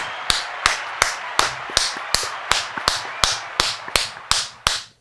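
Clapping for Trenton High, heard as a row of about fourteen sharp, evenly spaced single claps, each ringing briefly before the next, close and crisp.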